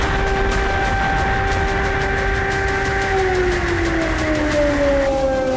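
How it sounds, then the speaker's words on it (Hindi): Air-raid sirens wail over the area during an attack on the Engels airbase in Russia, a loud, continuous layered drone whose pitch slides downward in the final seconds, with no voices. "एंगेल्स पर हमले के दौरान पूरा इलाका सायरन और धमाकों से गूंज रहा था। सुनिए यह आवाज।"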